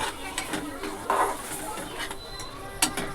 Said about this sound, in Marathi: व्यवस्थित मिक्स करून घ्यायचे